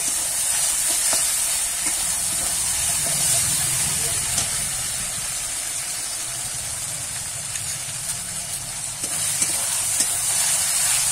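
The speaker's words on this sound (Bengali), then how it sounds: "এবারে দিয়ে দেবো টমেটো কুচি। একের সঙ্গে মিশানো এইভাবে ভালো করে নাড়িয়ে একটুখানি ভাজা ভাজা করে নেব।" Chopped tomato being stirred and fried with bhetki fish bones in a pan, a steady loud hissing sizzle with faint scraping stirs underneath, continuous and close with no talking.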